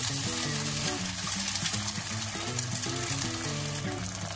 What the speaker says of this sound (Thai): เดี๋ยวเราจะเจียวกระเทียมให้เหลืองนะคะพอกระเทียมเหลืองแล้วเราก็ใส่ไข่ลงไป